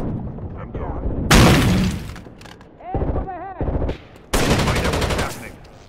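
Rapid gunfire bursts in the video game Rainbow Six Vegas 2, loud automatic volleys alternating with shouted squad callouts and radio voices, dense and chaotic with short pauses between bursts.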